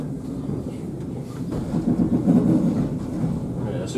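A train rumbles steadily nearby, a low mechanical roar with rhythmic clattering that grows slightly louder midway.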